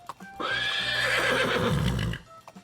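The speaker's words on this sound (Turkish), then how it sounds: "Bu bir at." A horse gives one loud, clear whinny lasting about two seconds, with a faint clip-clop just before and after it.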